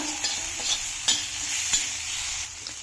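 Vegetables stirred and mixed on a hot tawa for tawa pulao, a busy scraping and sizzling with repeated spatula knocks against the metal, close and loud, with no voices.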